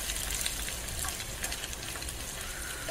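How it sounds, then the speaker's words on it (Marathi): Ginger paste and spices fry in oil for dal, giving a soft, even crackling sizzle that stays quiet and steady for a few seconds. "छान असं तेलामध्ये परतून घ्यायचं।"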